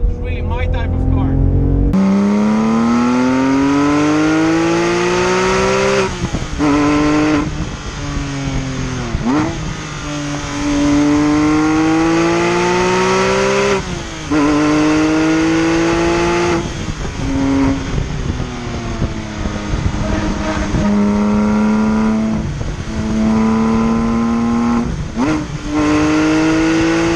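A Porsche GT3 RS on slick tires drives hard, its loud engine revving high and climbing through repeated gear changes with brief dips between pulls, continuous and close.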